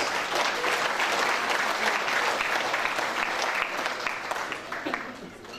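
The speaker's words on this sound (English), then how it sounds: "Please give yourselves a big round of applause" Guests at a mayoral charity ball in Liverpool, New South Wales, break into a big round of applause, dense sustained clapping filling the hall before easing slightly near the end.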